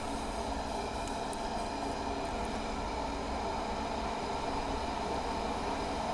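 A 2200-watt electric kettle heats water with a steady, dense rumbling hiss that holds at an even level throughout, with no talk over it.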